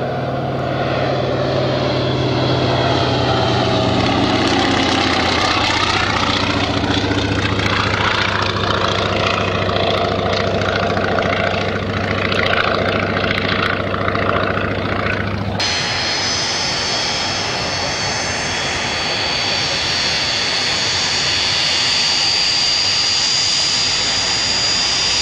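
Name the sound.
Antonov An-2 aircraft engine idling and taxiing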